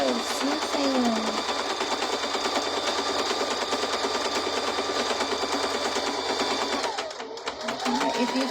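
A sewing machine stitches fabric for a bowl cozy in a fast, even mechanical rattle that runs steadily for several seconds, then stops briefly before starting again.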